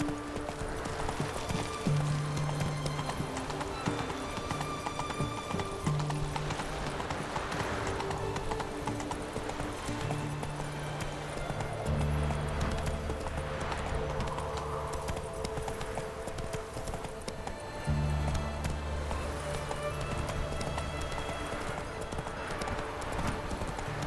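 A horse gallops with steady, rhythmic clip-clop hoofbeats in The Witcher 3 video game, accompanied by occasional neighs and snorts over a background game score.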